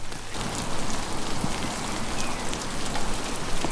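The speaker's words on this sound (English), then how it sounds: "It said it was gonna rain at like 10, 11 at night, and it's raining now." Rain drums steadily on a van roof, a dense close patter of drops that grows a little heavier after the first moment, with no voices.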